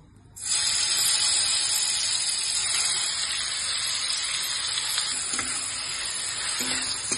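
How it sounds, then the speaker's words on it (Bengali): A loud, steady sizzle of marinated chicken frying in hot oil bursts in abruptly after a brief quiet moment and continues evenly throughout. "এবার আমি ম্যারিনেট করা চিকেনগুলো তেলের মধ্যে দিয়ে দেবো"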